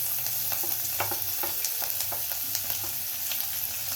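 Garlic frying in hot oil with cumin and ginger for dal fry, a steady close sizzle with repeated scraping taps of a spoon stirring the pan.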